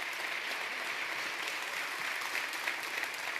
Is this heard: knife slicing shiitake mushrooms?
no